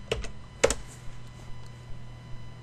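Sparse keystrokes on a computer keyboard in an office: a couple of sharper clicks, then slower, evenly spaced taps as a vendor name is entered, close and clear over a faint steady hum.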